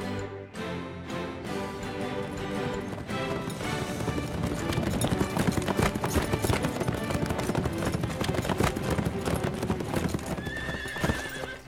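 Cartoon horses on a trail ride, steady clip-clop of hooves on the ground with a whinny, close and continuous over a music-like background, no talking.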